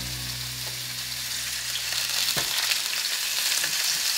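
Chicken shashlik fries in hot oil, spattering and crackling with a dense, bright sizzle close by, plus a brief low hum early on and one sharp knock midway.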